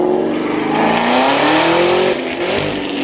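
A motorcycle accelerates hard, its engine howling loud and close with a rising pitch, then breaks off abruptly at a missed gear shift before the revs resume.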